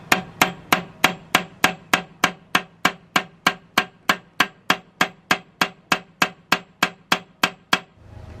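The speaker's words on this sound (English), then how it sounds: "Mallet, a few taps on top." A mallet taps repeatedly on top of a clutch fan being seated, around twenty crisp evenly spaced knocks in a steady rhythm, close and clear with nothing else heard.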